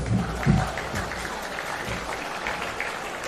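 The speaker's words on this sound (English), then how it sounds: "can I get you to give them a big round of applause?" Crowd applause in an indoor stadium at an under-18 boys basketball grand final in Melbourne, a steady rolling clap with a brief louder swell near the start, then an even level to the end.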